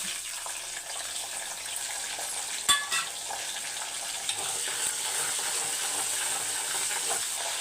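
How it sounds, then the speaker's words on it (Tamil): Curry leaves, a green chili and a clove of garlic fry in hot oil with fenugreek seeds for a curry-leaf gravy, giving a steady close sizzle with a couple of brief clinks. "பொரியும் போது கொஞ்சம் கருவேப்பிலை ஒரு பச்சை மிளகாய் ஒரு கட்டி பூண்டு"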